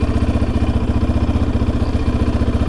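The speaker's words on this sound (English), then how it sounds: "Here I am releasing clutch, adding throttle." An ATV or motorcycle engine chugs close by in a fast, even pulsing rhythm as the clutch is released and throttle added, loud with no voices.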